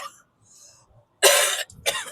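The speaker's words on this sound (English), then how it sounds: "The voice is still coughing." Two harsh coughs sound close to the microphone, the second shorter than the first, following a brief faint breathy noise.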